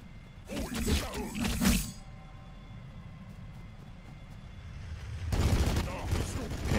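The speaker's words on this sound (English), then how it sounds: "I figured there was a strafing run coming in my way" Strafing-run gunfire in the Warhammer 40,000: Battlesector Ork vs Blood Angel multiplayer battle: a loud, dense burst of rapid shots, then a lull of low rumble, then a second heavy volley near the end.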